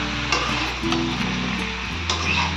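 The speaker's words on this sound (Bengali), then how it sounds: "আর ভালোভাবে নাড়বো এখন" Large pieces of bottle gourd are stirred as they fry in a pan in a village kitchen, a soft steady sizzle broken by a few light scraping knocks of the spoon against the pan.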